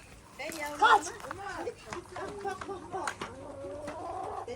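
Chickens cluck and squawk close by, with a busy scatter of short calls throughout.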